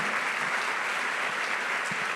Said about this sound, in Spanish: Un aplauso para el pastor, por favor, con todo su corazón.